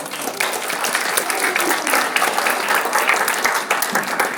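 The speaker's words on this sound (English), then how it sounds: "if you could please just give them a round of applause," A live audience at a tech meetup breaks into a sustained round of applause, dense and steady clapping filling the room at close range for several seconds with no voices over it.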